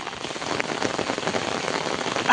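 Steady rain pours down, a dense, close hiss of drops pattering on surfaces with constant texture and no voices, ending in a slightly louder splash.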